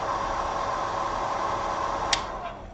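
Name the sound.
hair dryer smoothing paint on a figurine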